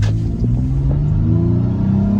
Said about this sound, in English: As we turn here, I'm gonna let you hear the exhaust.